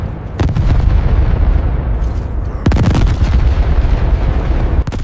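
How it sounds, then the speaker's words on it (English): Artillery shells from First World War guns fall and explode, with heavy booming blasts rolling continuously over dense rumbling gunfire, loud and close, with a sharp burst partway through. "The shells begin falling directly onto the Lost Battalion."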